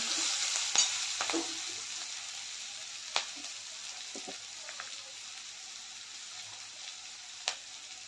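Kanda lasun masala is stirred into ridge gourd sabzi in a pan, with a steady soft sizzle of frying broken by occasional spoon clicks and scrapes against the metal.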